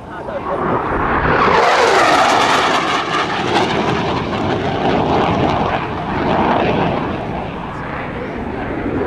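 An FG-1 Corsair propeller plane roars past at an airshow, its engine swelling to a loud peak and then droning away.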